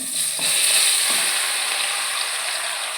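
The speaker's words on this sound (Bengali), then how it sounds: "কড়াইতে কিছুটা সরিষার তেল গরম করে নিয়েছি তেজপাতা গোটা শুকনো লঙ্কা আর পাঁচ ফোড়ন দিয়ে ভালো করে ভেজে নেব" Elephant apple pieces fry in hot mustard oil with bay leaf, whole dried red chillies and panch phoron in a wok, making a loud, steady sizzle with stirring scrapes near the start and no voices.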